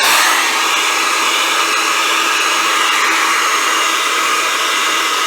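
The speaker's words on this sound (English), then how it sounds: "get like a hair dryer or compressed air and focus on drying it" A hair dryer blows steadily with a loud, even, hissing whoosh of air, running alone without pause while drying a Fitbit watch.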